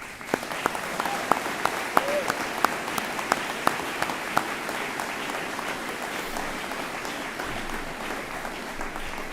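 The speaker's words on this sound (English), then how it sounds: "let's just give him a round of applause" An audience at a National Guard change-of-responsibility ceremony applauds for a 92-year-old Army veteran, a steady wash of many hands clapping at moderate distance, with a few sharper individual claps standing out.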